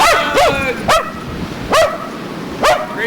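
Outdoors in heavy snow, the dog Sparky lets out four sharp, close, high-pitched yelping barks spaced irregularly over a few seconds, with no talking.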